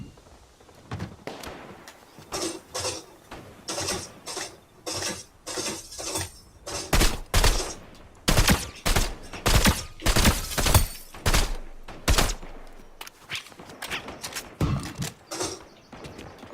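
Bursts of video game gunfire, single shots and quick volleys that come irregularly and grow denser and louder midway, with gaps of quiet between the clusters.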